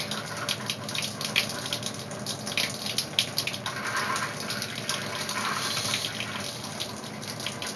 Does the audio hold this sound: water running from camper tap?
yes